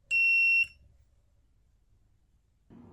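A loud electronic buzzer on a two-pin circuit board sounds one steady high-pitched tone for about half a second, then stops, leaving quiet with a faint clunk near the end.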